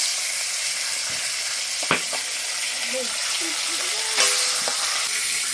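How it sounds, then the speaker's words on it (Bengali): Steady, soft sizzle of pomfret fish frying in a small amount of oil, with a couple of brief utensil clinks and faint scraping sounds over the continuous hiss. "মা একদম কম তেলে মাছ ভাজতে পারে"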